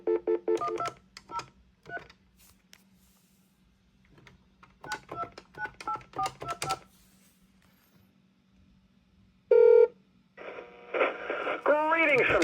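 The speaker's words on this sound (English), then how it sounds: "I need to switch the line out and dial out now" Touch-tone dialing on an AT&T 730 telephone: bursts of crisp DTMF beeps in quick groups separated by pauses, over a steady line hum, followed by a brief loud tone and then a voice coming over the line.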